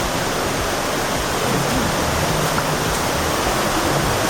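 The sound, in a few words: water flowing, waterfall stream in Cherrapunji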